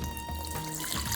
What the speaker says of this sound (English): Lukewarm water. I used lukewarm water.